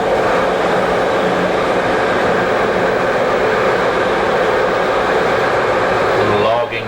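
A Swiss train travelling through the countryside gives a steady, loud rumble and rolling hiss that holds evenly throughout, with a brief low tonal shift near the end.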